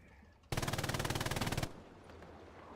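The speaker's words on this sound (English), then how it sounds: "He is long distance machine guns though." Machine gun fire in the WWII shooter Hell Let Loose: a single rapid sustained burst of roughly twenty evenly spaced shots lasting about a second, loud and close against quiet battlefield ambience.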